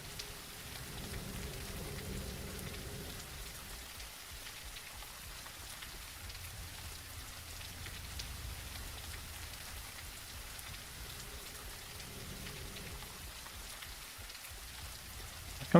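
Steady rainfall in the video game Bleak Faith: Forsaken, a continuous even hiss of drops on surfaces with a soft low rumble beneath, holding at moderate loudness for the whole stretch with no voices.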